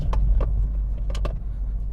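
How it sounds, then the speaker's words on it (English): A car travelling over rough, poorly surfaced roads gives a steady low rumble with a few short rattles and knocks from the cabin. "Driving around on really low quality roads"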